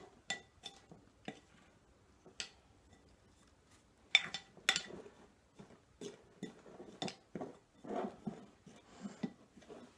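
Dry ingredients for keto zucchini bread, flour with extra cinnamon, get stirred in a bowl, giving a string of light clinks and scrapes of a utensil against the bowl, irregular and close, with no voices.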